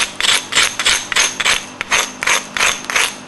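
A raw flint rock is struck over and over, giving about ten sharp, close, clacking knocks in a quick, slightly uneven rhythm with no talking.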